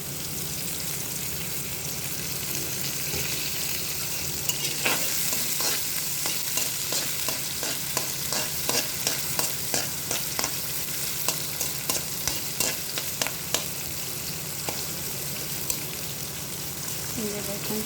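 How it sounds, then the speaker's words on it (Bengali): Onion and green chili frying in soybean oil make a steady hiss, broken from midway by a run of sharp rhythmic spatula taps and scrapes against the pan, close and moderately loud. "এখন আমি এখানে দিয়ে দিচ্ছি পেঁয়াজ, কাঁচামরিচ, এখন দিয়ে দিব"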